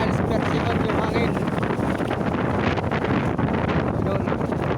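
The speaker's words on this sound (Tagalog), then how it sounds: "Malakas na po yung hangin." Strong wind roars steadily across the microphone on a fishing boat at sea amid big waves, a dense, constant buffeting without pause.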